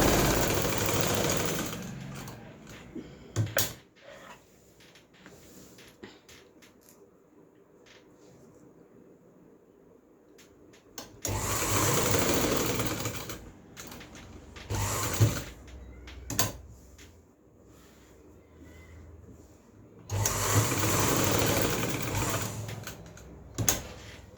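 Sewing machine stitching lace onto a blouse neckline, running in several separate bursts of close mechanical whirring with quiet gaps and small handling clicks between.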